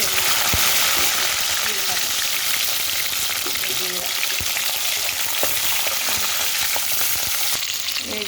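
Green chillies and urad dal fry in hot oil in a pan for a coriander chutney. The sizzle is loud and continuous, with occasional stirring clicks, and a voice talks faintly underneath.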